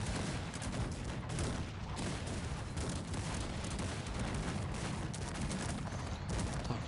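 Dense, continuous battle noise from the strategy game Cossacks 3: rapid overlapping musket gunfire and heavy cannon booms rolling without pause, loud and crowded throughout.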